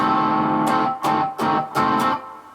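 Distorted electric guitar chords from a song's solo, cut short by hand muting into about five sharp choppy stabs over a sustained rumbling tone.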